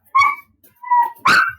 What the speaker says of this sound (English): He's going to start barking.